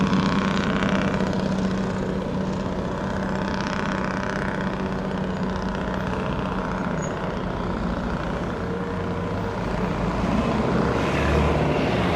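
Steady, continuous airplane engine and propeller drone at Sangster International Airport in Montego Bay, heard from beside the runway, loud and unbroken for the whole stretch with no talk.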